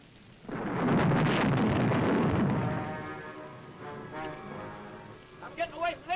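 Heavy rain pouring during a night thunderstorm, a dense loud wash that swells then eases into a steadier patter, with voices speaking over it toward the end.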